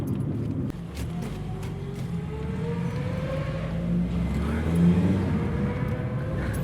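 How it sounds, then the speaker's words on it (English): A Ferrari 355 sports car engine hums and revs steadily in the background, a continuous rumbling drone with a slight swell toward the end. "it's a Ferrari 355 in the background."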